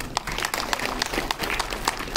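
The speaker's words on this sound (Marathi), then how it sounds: "एकदा स्वतःसाठी टाळ्या वाजवा." An audience at a community gathering in Panvel claps for itself, with a dense, lively stretch of many hands clapping at once in a close, steady burst.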